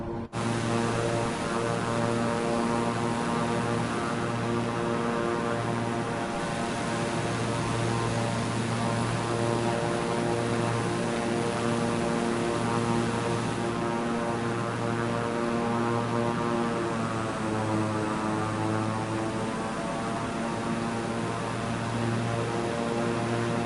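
Airplane engine in Microsoft Flight Simulator on PS5, a steady, unbroken propeller drone with a constant humming tone that holds evenly for over twenty seconds with no talk.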